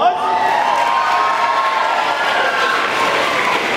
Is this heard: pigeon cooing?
no